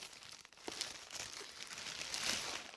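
A damaged FedEx package is cut open, giving a few seconds of close crinkling and tearing of packaging material, with no talk.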